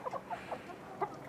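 Chickens cluck in short, soft bursts nearby, several quick calls spread irregularly across the moment.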